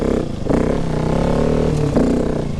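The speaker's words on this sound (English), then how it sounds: "I like how I can just flip that bloody throttle and it throws that back wheel out." A 2019 KTM 690 Enduro R single-cylinder motorcycle with the throttle snapped open, the engine barking up in two quick revving surges over a steady rumble, close and loud, with no talk.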